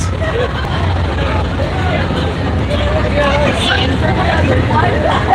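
Busy street at Witches Night in Howell, with a crowded babble of many voices over passing traffic from both directions, a steady loud mix throughout.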